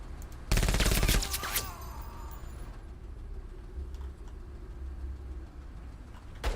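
Automatic gunfire from units in the video game MENACE, a loud rapid burst up front followed by a lower rumbling vehicle-like drone and scattered faint shots.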